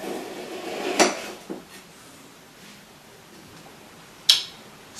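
Knife cutting through frozen malai kulfi on a plate, two sharp clinks of the blade against the dish a few seconds apart, with a softer scrape in between, otherwise quiet.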